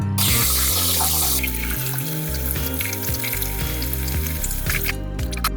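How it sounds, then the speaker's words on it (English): A crab shell is rinsed under a running kitchen tap, a loud, steady rush of water with splashing and shifting hiss as the shell is turned in the stream. "now I'm going to clean this crab shell under running water"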